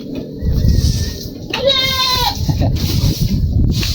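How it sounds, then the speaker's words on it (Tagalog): A goat bleats close by on a farm, a wavering cry in the middle of the clip, over steady low background rumble and brief indistinct voices. "Lalandi na yung kambing na yan, eh."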